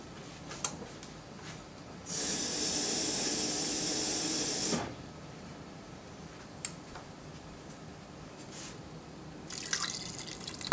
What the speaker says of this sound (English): So I'm just going to add a little water to this one.